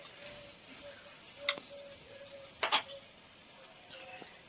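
Fried rice sizzles softly in a pan on a traditional clay stove as turmeric, red chilli, coriander and salt are stirred in, with two distinct metallic clinks of the spoon against the pan over a low, steady frying hiss.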